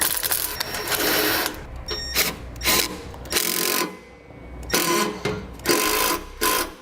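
A hose clamp is tightened onto a trailer base plate with a power tool, giving repeated loud whirring, ratcheting bursts of about a second each, separated by short pauses and heard up close.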